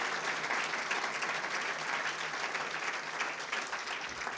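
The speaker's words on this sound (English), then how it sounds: "Give them a big round of applause." A large audience gives a steady round of applause for city council members at a regional public event, dense even clapping held for several seconds without a break.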